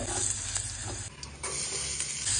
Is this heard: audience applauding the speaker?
no